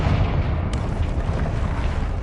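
Confringo spell explosion in Hogwarts Legacy, a loud rumbling low boom with one sharp crack early on, sustained fiery roar throughout.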